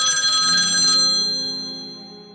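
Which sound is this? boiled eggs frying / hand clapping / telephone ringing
telephone ringing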